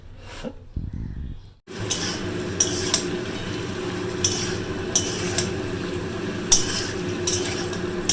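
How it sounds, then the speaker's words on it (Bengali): Pointed gourd sizzles steadily in a pan, with periodic scrapes and clinks of a utensil stirring against metal. "পটলগুলো ভালো করে ভেজে নিতে হবে গো"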